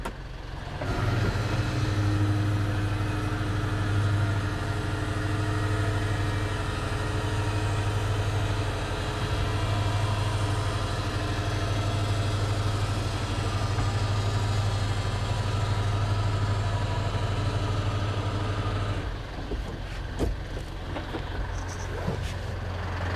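An Isuzu NLR 130 dump truck's diesel engine runs steadily with its PTO engaged to raise the bed, a loud, constant drone with a low hum that cuts off near the end, leaving faint clattering.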